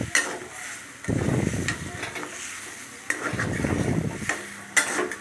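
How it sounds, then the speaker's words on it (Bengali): Chana dal mixed with grated coconut is stirred in a pan, giving two bursts of scraping and soft sizzling separated by quieter pauses, close and fairly loud with no talk. "ভালো করে ডালের সাথে নারকেল কোড়াটা ভালোর সঙ্গে মিশিয়ে নিচ্ছি ভালো করে নাড়াচাড়া করে নিচ্ছি"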